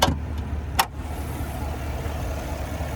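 The 6.2-liter naturally aspirated V8 of a 2022 Cadillac Escalade idles steadily with a low rumble, heard up close under the open hood after two brief sharp thumps.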